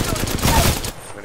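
Gunfire in the video game Apex Legends, a dense, loud burst of rapid shots lasting about a second before cutting off abruptly.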